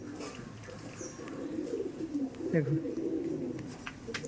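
Dom pigeons in a breeding loft coo in soft, low, rolling phrases, with a faint chirp or wing rustle, while someone speaks over them nearby.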